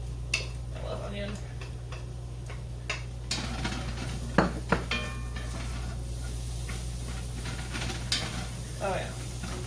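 Onion frying in a pan for vegan calzones gives a low, steady sizzle alongside scattered utensil clinks and stirring knocks against the pan, with a constant low hum underneath and brief talk nearby.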